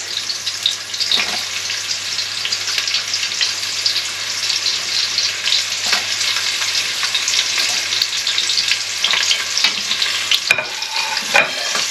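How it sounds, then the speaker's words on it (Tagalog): Onion and garlic sautéing for Filipino chicken macaroni soup make a steady, loud, close-up sizzle and crackle that runs unbroken, with occasional stirring scrapes and a sharp clink near the end, and no voices. "We need to saute that until golden brown."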